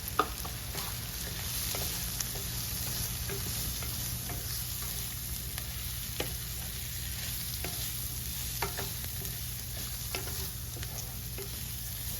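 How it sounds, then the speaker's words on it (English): White rice stirred into a pan with garlic for seafood rice with bacon, giving a soft, even sizzle under a faint steady hum, with scattered scraping clicks from the stirring and no talking. "Going to add in 1 cup of white rice and stir that in."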